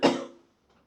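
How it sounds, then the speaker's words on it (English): A single close, dry cough bursts out and quickly trails off, followed by a faint breath or rustle. "excuse me coughing guys."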